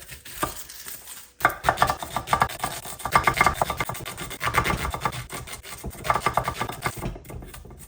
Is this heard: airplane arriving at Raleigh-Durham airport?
no